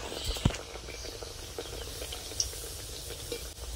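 A rice-flour snack fries and puffs up in hot oil, making a steady, low sizzle with a few small pops and crackles close by.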